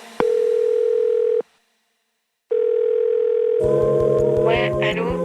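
Phone tone sounding in steady bursts, a long continuous tone, a pause, then the tone again, with a brighter electronic jingle layering in near the end; close and fairly loud with no talking.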